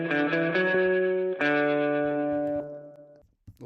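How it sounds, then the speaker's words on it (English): Surf-style noir electric guitar with a dark tone rings out through spring reverb, playing sustained chords that change twice before the last one decays into a short splashy tail, with no talk. "Always love a bit of spring reverb, especially on these kind of like surfy, cinematic noir guitars."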